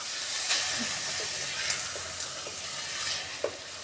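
Fast food style fried rice is stir-fried in a pan, a steady close sizzle and hiss with occasional light clinks of a spatula.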